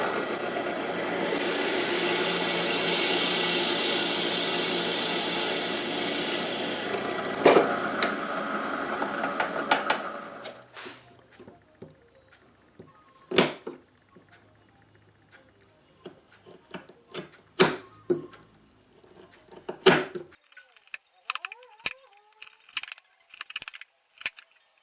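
Cutting mortises for a hinge piece in a wooden archtop guitar tailpiece: about ten seconds of loud, steady machine cutting noise, then quiet with scattered sharp taps and clicks of chiseling or handling the wood.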